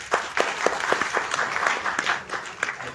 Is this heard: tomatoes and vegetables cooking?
no